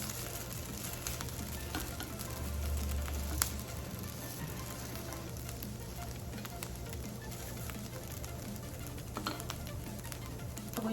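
A spoon stirs breakfast casserole ingredients in a bowl, with garlic powder, seasoned salt and pepper worked in. The steady scraping and churning runs continuously at a moderate level over a constant low hum, with no talking.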